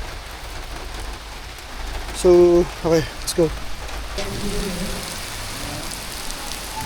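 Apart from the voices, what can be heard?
heavy rain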